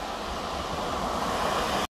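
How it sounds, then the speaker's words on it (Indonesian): Surf rolls in at Madasari beach in Pangandaran under overcast skies, a broad steady wash of breaking waves mixed with wind rush, moderately loud and continuous before stopping abruptly. "Nah ini pantai Madasari ya"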